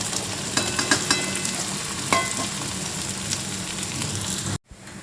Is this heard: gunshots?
no